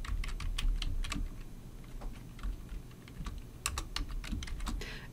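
Typing on a computer keyboard while entering a Python print statement, with quick irregular bursts of clicky keystrokes, close and clear, no talking.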